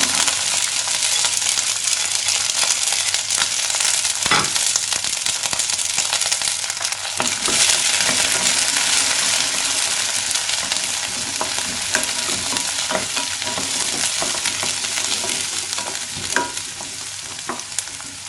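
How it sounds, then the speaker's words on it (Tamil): Garlic sautéing in sesame oil over a low flame gives a steady, close, dense sizzle that runs throughout, with occasional stirring clicks and scrapes in the pan and no voices. "குறைவாக வச்சுட்டு பூண்டு சேர்த்து வதக்கிக்கணும்."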